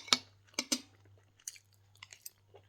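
Someone eating boiled eggs for a low-carb breakfast chews close to the mic: a few soft, wet bites and crunches spaced irregularly over a faint steady hum, with no talking.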